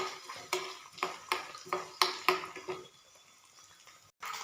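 Grated coconut is stirred in ghee for sweet pongal, with a series of sharp, regular spoon taps and scrapes against the pan over a light sizzle, then a brief quieter stretch and one more knock.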